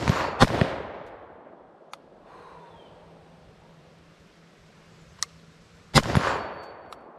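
Rifle shots fired outdoors through a muzzle device on a 16-inch barrel: two sharp, loud cracks, one early and one late, each followed by a long echo tail, with a faint distant pop between them.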